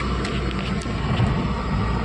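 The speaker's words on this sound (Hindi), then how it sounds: "तो बैठते हैं गाइस गाड़ी में।" A car's engine hums steadily with broad rumbling road and interior noise as passengers set off, loud and continuous with no talk over it.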